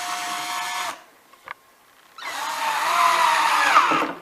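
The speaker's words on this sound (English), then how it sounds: "put your screw in, and you feel it go in, and you get your driver" A power driver sinks a pocket screw into a DIY laundry table frame: a high, steady motor whine runs for about a second, stops, then returns for a longer rising burst, close and loud.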